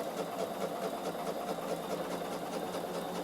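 A Bernina sewing machine runs steadily, stitching a seam on a peak cap, with a fast, even mechanical whir and rapid needle ticking held close and loud throughout, with no voices.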